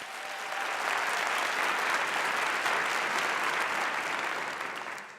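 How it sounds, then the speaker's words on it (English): A crowd claps continuously and evenly, a dense, loud wash of applause that holds steady and begins to fade at the end. "Let's give Miss Jackson another round of applause for her talent."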